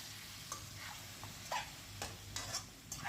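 Chicken frying in a pan keeps up a soft sizzle as a spatula stirs and scrapes in several brief strokes, close and quiet, with no one speaking.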